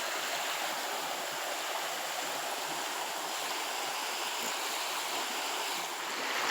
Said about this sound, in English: this is river water, Bogue water